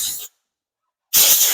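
Compressed air blasted onto a car door panel while it is wiped with a towel, two loud hissing bursts close by with a silent gap between them.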